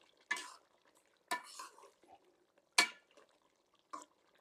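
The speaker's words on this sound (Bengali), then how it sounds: "একটু নেড়ে দেব" A spoon stirs a pot of home-cooked country duck curry after fried cumin is added, making four separate scraping strokes spaced by quiet pauses.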